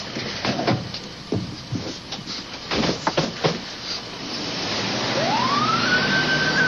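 An ambulance siren rises out of loud, noisy rumble and wails steadily in the latter half, without fading away.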